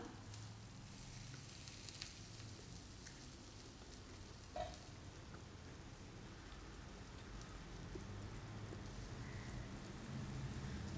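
Fish pieces fry in a hot pan, giving a steady, dense sizzle that crackles like rain, continuous for the whole stretch and swelling slightly toward the end, with no voices.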